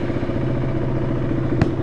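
A KTM Duke 200 BS4 motorcycle idles nearby, a steady engine drone with a fast faint ticking in its rhythm and a single sharp click near the end, no voices.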